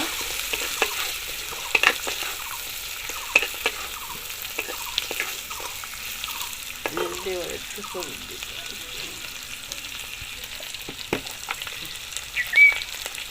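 River crab fries in a pan with purple cabbage, giving a steady sizzle broken by scraping stirs and clinks of a utensil against the pan.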